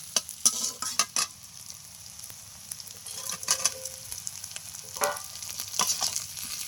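Steady sizzling of boal fish frying in hot oil with fried onions, with several sharp clinks and scrapes of a utensil stirring the pan at close range.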